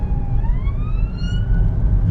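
An unmarked undercover police car passes on a UK road with its siren wailing in rising sweeps. The siren sounds moderately distant over the steady rumble of a small Toyota Aygo's engine and road noise from inside the cabin.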